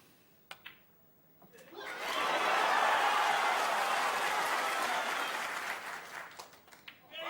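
A snooker crowd applauds a maximum break, bursting into loud, sustained clapping that swells after a quiet start and slowly fades, with a little laughter mixed in.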